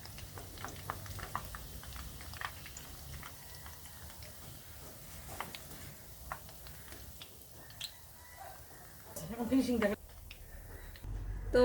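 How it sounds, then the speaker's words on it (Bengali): Palm fruit fritters frying in a pan of oil, a faint irregular patter of small pops and ticks spread across the stretch, with brief scraping clatter near the end. "তো আমি এভাবে ভেজে নিব।"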